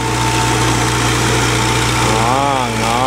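An Iseki TS3910TC tractor engine runs at a steady idle close by, a loud continuous mechanical drone with a faint wavering whine near the end.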